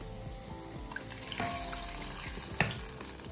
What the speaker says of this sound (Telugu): ఇప్పుడు ఇవన్నీ బ్రౌన్ కలర్గా ఫ్రై అవనిద్దాం.